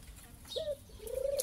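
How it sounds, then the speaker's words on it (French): Turtle doves near an aviary give two soft coos in close succession, faint and without talk. "Vous avez eu un envol de tourterelle."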